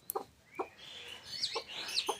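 A mother hen with her chicks clucks in a few short, close calls, followed by higher chirping peeps, with no talk.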